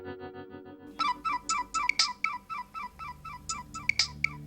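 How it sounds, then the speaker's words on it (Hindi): A phone plays a repeating electronic ringtone of short bright chiming notes in a steady rhythm, clear and close, after a brief stretch of quiet tones at the start; no talking. "अननोन नंबर, लगता है किसी फिल्म स्टार का फोन है।"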